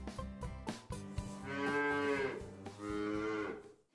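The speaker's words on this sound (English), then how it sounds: "Cow, are you hungry?" A cow at a zoo gives two long, loud, close moos separated by a short pause, with some low background rustling before them.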